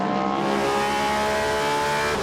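A Porsche race car at the 6 Hours of Shanghai endurance race in gloomy conditions, its engine note holding steady and loud with sustained tonal harmonics throughout, no talk.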